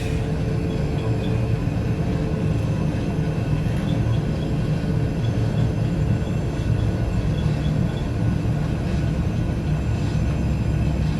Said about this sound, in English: takeoff thrust is coming in. Takeoff thrust is set.